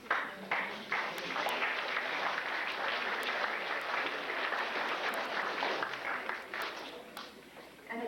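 A crowd at a high school athletic awards ceremony applauds steadily for several seconds, a dense wash of clapping that fills the room at moderate volume with a faint voice underneath.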